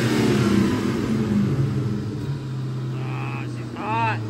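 A car engine rumbles and revs as the throttle is worked by hand after front-end ball joint repairs, a close, steady low drone with slight pitch swells and a brief voice near the end.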